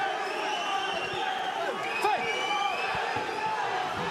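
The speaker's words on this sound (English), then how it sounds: "The crowd becoming electric here." Fight crowd at a GLORY 91 kickboxing event, a steady roar of cheering and shouting in a large venue with scattered whistles and yells, under a commentator's talk.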